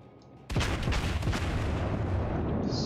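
A sudden heavy naval cannon boom erupts in World of Warships, followed by a rolling, rumbling blast that sustains loudly for a couple of seconds.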